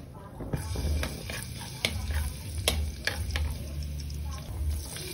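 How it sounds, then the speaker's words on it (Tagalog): Garlic sautés in a pan for Filipino taro leaf laing, a continuous sizzle under repeated spatula scrapes and knocks against the pan at an uneven rhythm, close and fairly steady throughout. "Itabi na natin to kasi magkikisa tayo ng bawang."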